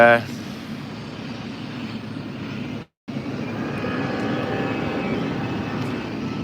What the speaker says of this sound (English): I can hear an aeroplane.